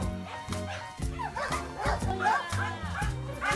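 Dogs at an animal shelter greet volunteers, yipping, whining and giving short barks in overlapping bursts at close range, with people's excited voices mixed in throughout.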